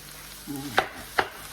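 Ground turkey and chorizo sizzling in a pan, with a low steady fry broken by three sharp scraping chops of a utensil against the pan, close by.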